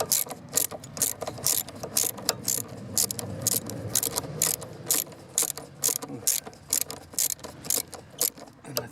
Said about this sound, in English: 10mm ratchet, long extension, 10mm socket, down onto that 10mm bolt down there, and just give it a couple of turns